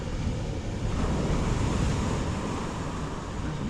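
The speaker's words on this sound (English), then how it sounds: "There's an awful lot of force in those waves." Surf surging and breaking on a shingle beach at Slapton under north-east winds, a continuous loud roar of churning waves mixed with wind buffeting the microphone, no voices.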